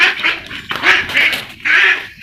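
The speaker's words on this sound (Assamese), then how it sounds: "এতিয়া হাঁহ বহুত উৎপাত কৰিছে হাঁহকেইটাক ধান কেইটামান দি লওঁ" Ducks on an Assamese farm quack in loud, close bursts while being fed paddy, several noisy calls in quick succession.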